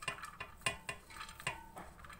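A large cooking pot and metal utensils while rice is layered for Sindhi biryani, giving a series of sharp clinks and scrapes in an irregular rhythm, close and fairly quiet, with no talking.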